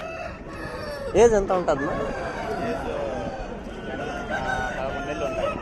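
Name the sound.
heavy-size roosters crowing at hen market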